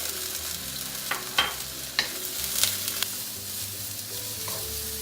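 Red onions and garlic stir-frying in a wok, a steady close sizzle with a few sharp clacks and scrapes of a utensil against the pan, no voices.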